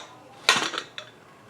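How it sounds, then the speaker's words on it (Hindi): A pressure cooker holding freshly cooked aloo pulao is opened, a sharp metallic clank of the lid followed by a lighter clink, close and brief against a quiet kitchen. "अब प्रेशर कुकर को यहाँ पर हम खोल लेंगे।"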